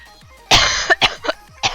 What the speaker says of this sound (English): of like a really bad cough or chest infection